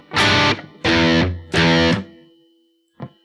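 Distorted electric guitar chugs a stoner rock riff in three heavy, sustained strummed bursts with short gaps, then rings out and ends with a brief muted pick.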